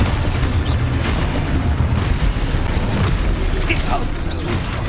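An explosive spell in Hogwarts Legacy on Switch 2 produces a dense, rumbling boom that sustains loudly throughout, with a voice shouting over the blast.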